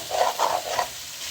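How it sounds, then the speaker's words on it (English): Chicken frying in a pot for biryani gives a soft bubbling sizzle with a few gentle swells, close and steady, with no one talking. "So I'll let it fry a little while"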